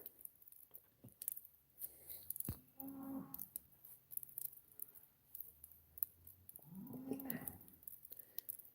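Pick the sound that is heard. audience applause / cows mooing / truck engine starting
cows mooing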